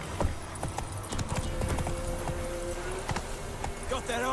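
The horse Roach's hooves clip-clop in a steady walking rhythm in The Witcher 3, with game music and a voice speaking over them.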